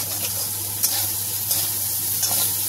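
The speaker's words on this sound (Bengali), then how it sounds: "সয়াবিনটাকে কিন্তু ভালো করে এটাকেও একটু লাল লাল করে ভাজতে হবে" Soybean chunks fry with spices in a hot pan, a loud close sizzle with periodic stirring scrapes and knocks about every 0.7 seconds, and no voices.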